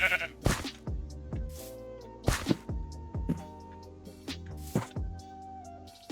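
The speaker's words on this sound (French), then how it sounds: "Un mouton." Sheep in the Minecraft video game bleat repeatedly, loud and close, with several distinct wavering calls spaced through the stretch and no talk over them.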